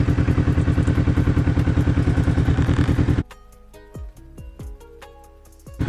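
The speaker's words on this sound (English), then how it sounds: "I'm just going to go out, give the bike a bit of a ride, and see what happens." A Kawasaki Vulcan S motorcycle engine thumps loudly and close in a fast, even idle pulse for three seconds, then cuts out, leaving clunks and ticking with a short restart burst at the end.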